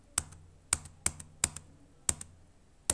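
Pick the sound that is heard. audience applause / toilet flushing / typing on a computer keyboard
typing on a computer keyboard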